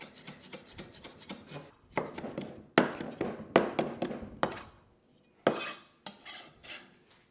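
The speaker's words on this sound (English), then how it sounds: "Lemongrass can be quite woody, so you do want to bash it well before slicing into it." Woody lemongrass stalks bashed and then sliced with a knife on a chopping board for a Vietnamese bo kho paste. The thuds and chops come close and irregular, some sharp and loud, others softer and rasping, with short pauses between them.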